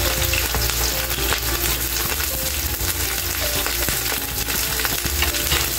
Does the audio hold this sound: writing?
no